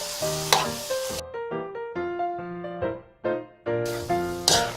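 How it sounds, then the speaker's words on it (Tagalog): Bopis, a Filipino dish, fries and is stirred in a pan, giving a steady sizzle broken by repeated scraping strokes, heard close over a melodic backing. "Ipa-fry muna natin to ng mga ilang minuto hanggang sa ma-absorb niya yung mga sangkap na nilagay natin."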